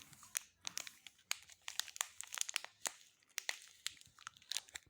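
A yeast packet crinkles and crackles as someone struggles to open it: sharp, close, irregular bursts of plastic rustling with brief quiet gaps between them.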